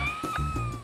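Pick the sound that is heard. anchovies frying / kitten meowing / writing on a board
kitten meowing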